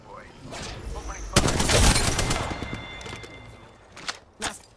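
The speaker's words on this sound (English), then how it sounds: "Opening fire." Gunfire bursts loudly in an Apex Legends match, a heavy volley around the middle followed by a few sharp separate shots near the end, close and punchy over faint game ambience.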